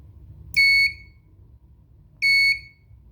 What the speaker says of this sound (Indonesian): LED mati, dan buzzer menyala.